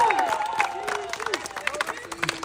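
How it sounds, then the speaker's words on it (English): A single person clapping hands, the claps scattered in among talk, crowd noise and cheering from a basketball broadcast. "That first clap was like a what the F clap"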